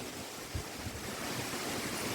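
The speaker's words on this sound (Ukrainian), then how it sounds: "Вітер щось піднявся, да?" Broad, steady wind noise rushes across the microphone, faint and continuous, with one brief low buffet near the start and no voices, outdoors by a river in summer.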